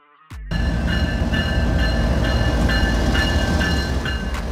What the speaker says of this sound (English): Military train.